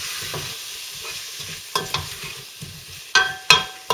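Beef pieces and flour stirred together in a pan over low heat for a British beef stew in red wine: a soft continuous sizzle with scraping spoon strokes that grow sharper and more frequent toward the end, close and alone.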